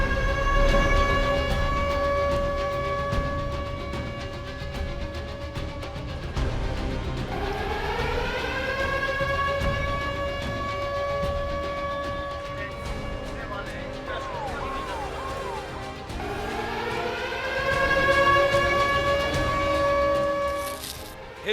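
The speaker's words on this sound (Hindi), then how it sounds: "हिंदुस्तान में मॉक ड्रिल का सायरन बजा" A mock-drill air-raid siren sounds in India, long rising and falling wails with a harmonic tone that swell, hold and sweep again several times over steady background noise.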